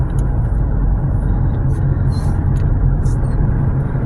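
A car drives along with a steady, loud low engine and road rumble throughout, the continuous drone holding level with no talking.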